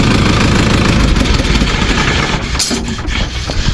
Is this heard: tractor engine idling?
yes